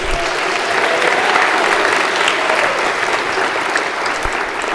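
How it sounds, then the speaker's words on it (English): Audience applauding steadily at a senior awards ceremony, dense sustained clapping filling the room at close range with no talk over it. "Oh, you guys want to applaud for this."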